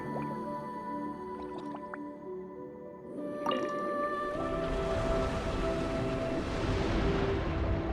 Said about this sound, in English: Go activate the mechanism for the first sluice gate. That will fill the empty middle chamber with water.